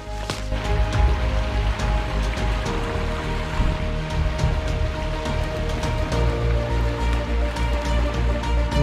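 A small stream running through forest undergrowth makes a continuous rushing, splashing babble, close by and steady for the whole stretch.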